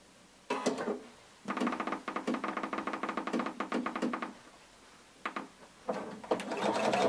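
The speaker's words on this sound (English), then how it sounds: "we're going to sew using 5/8 of an inch seam allowance." A sewing machine stitches the center front seam of a hooded tunic at a 5/8-inch seam allowance, in a few short, close bursts of quick rhythmic ticking separated by quiet pauses.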